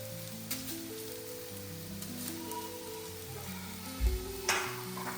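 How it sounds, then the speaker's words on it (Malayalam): Quiet, steady sizzle of grated coconut frying in coconut oil over low heat, with a few soft clinks from a pan. "വെളിച്ചെണ്ണയിലേക്ക് തേങ്ങ ഇട്ട് കൊടുക്കാം."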